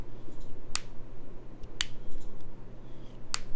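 A twist cap on a skincare cleanser bottle gives three sharp, separate clicks as it turns, close and crisp over a low steady background hum.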